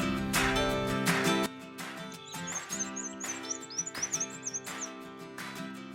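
Synthetic bird-chirp alarm tone from an iOS alarm clock app, rapid high tweets in repeated bursts over a sustained musical chime backing, clear and fairly close with no talking.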